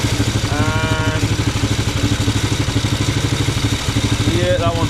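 A Norton Model 50 motorcycle engine idles close by with a steady, even thump, while a voice talks over it.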